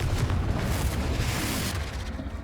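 A Confringo fire spell explodes in the Hogwarts Legacy video game, a dense, booming blast with a rumbling, crackling tail that stays loud across the brief moment, with no talking.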